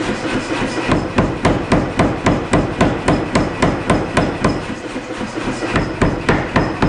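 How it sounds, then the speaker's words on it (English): A wootz steel knife is hammer-forged with rapid, evenly spaced metallic blows at about three per second, close and loud against a constant background hum. "I can continue forging a little bit further on this."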